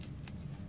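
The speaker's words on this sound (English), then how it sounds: "cut the strip" Scissors snip through a thick vinyl strip for a bow, a single close, crisp cut with a low background hum and no talking.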